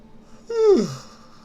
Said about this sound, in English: I don't know why I'm yawning.